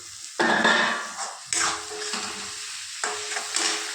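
Chopped tomato drops into mixed vegetables frying in oil, giving three bursts of loud sizzling, each fading back to a softer crackle while the pan is stirred.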